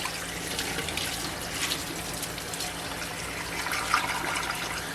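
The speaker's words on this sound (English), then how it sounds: "Can you see the water coming out of the holes, Johnny?" Water running into a hummingbird feeder and trickling back out through its feeding holes, a steady splashing faucet-like flow that stays fairly even, with one brief brighter splash near the end and no talking.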